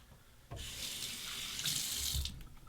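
Hot water runs steadily from a bathroom sink tap during a wet shave with a 1959 Gillette Fatboy razor, a continuous close hiss of flowing water with no talking.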